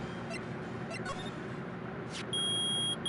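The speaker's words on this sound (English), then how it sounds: "Nick, it's beeping. The metal detector found something." A metal detector in the Phoenix Wright: Ace Attorney video game gives off a steady, high electronic beep. It starts late in the clip, is briefly cut off, then resumes over a low background hum.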